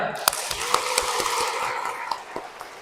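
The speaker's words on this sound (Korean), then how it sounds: "이 친구들 박수 한번 쳐주세요." A church congregation claps during a Holy Saturday homily at a Korean Catholic cathedral, a dense, steady spread of hand claps with a few sharper slaps standing out, moderately loud and filling the room without any voice over it.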